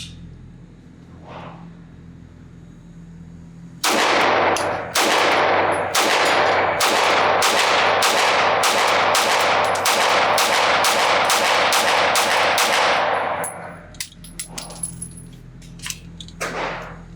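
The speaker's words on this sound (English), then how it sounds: "let's shoot some hollow points." Rapid string of close, loud shots from a Ruger P95DC, a 1990s double/single-action 9mm pistol, firing hollow point ammunition outdoors at a range, roughly fifteen sharp reports in quick succession with a few scattered shots trailing after.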